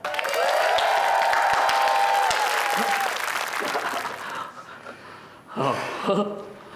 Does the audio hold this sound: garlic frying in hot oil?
no